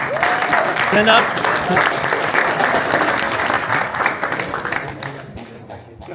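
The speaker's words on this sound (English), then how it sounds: "Let's give him a clap for his awesome work again" An audience at a TwitchCon 2025 beginners' panel on IRL streaming breaks into sustained applause that slowly tapers off toward the end, with a voice speaking briefly over the clapping.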